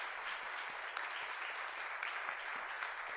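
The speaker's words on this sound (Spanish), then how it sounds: "comenzando con un muy fuerte aplauso" A conference plenary audience gives a strong, dense round of applause, many hands clapping continuously at an even level with no talk over it.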